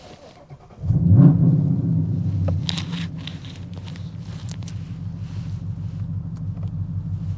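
A car engine cranks and catches with a sudden loud rumble, then settles into a steady throbbing idle and low drive-away hum, close to the microphone with no talk.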